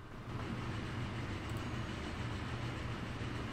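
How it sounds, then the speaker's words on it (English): A large heavy-haul train rolls in during the rail game Transport Fever, a steady low rumble of wheels and engine, fairly faint and even, with no one talking. "Here's this huge ass train coming in there"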